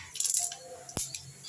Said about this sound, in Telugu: సో పోపు వేసుకుంటాను